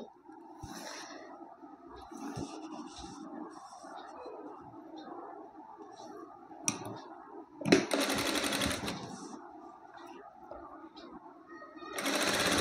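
A sewing machine stitches a puff sleeve, running as a steady mechanical whir with louder, faster bursts partway through and near the end. No one speaks over it.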